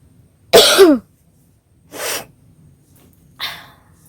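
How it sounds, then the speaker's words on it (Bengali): Three dry, rasping coughs, one strong burst followed by two shorter, softer ones spaced about a second and a half apart, close to the microphone in a quiet room. "খুশখুশি শুকনো মতো কাশি সমানে যেন লেগে আছে"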